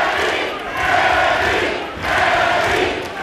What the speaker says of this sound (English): Here we hear the Kennedy crowd starting up